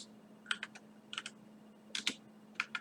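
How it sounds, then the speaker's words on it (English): A file name is tapped out on a computer keyboard in short bursts of close, crisp keystrokes separated by brief pauses over a faint steady hum. "you just have to go in there and just type in the name of the picture you want"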